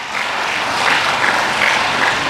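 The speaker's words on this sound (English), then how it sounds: "Give a big applause to yourself." A conference audience applauds itself, a steady wash of many hands clapping, loud and continuous with no gaps for the short stretch.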